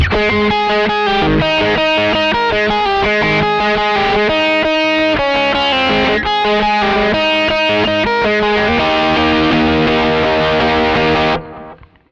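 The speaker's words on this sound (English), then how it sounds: "this is what the intro riff sounds like from start to finish at full speed" A loud, heavily distorted electric guitar plays the fast, dense intro riff of a song, rapid notes for about eleven seconds at full speed, then cuts off abruptly.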